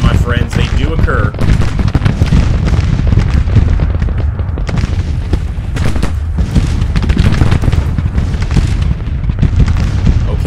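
Artillery booms and rattling gunfire from a Civil War battle in the strategy game Grand Tactician, dense and loud throughout, with someone talking over the continuous barrage.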